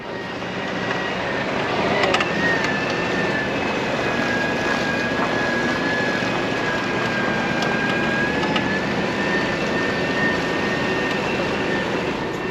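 A Toyota Tacoma with a failing transmission or transfer case gives off a steady, loud droning whine with a rising and falling tone as it drives, continuous throughout with no talk.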